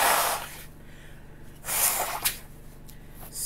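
Someone blows their nose in two forceful, breathy bursts separated by a short pause, the wet rush close and loud, with a brief snort between and no talking.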